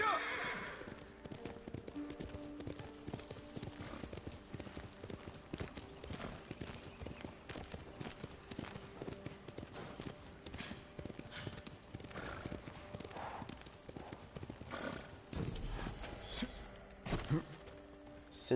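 Horse hooves gallop in the video game Ghost of Tsushima, a fast, steady clip-clop that continues throughout, with other game sounds and someone speaking over it.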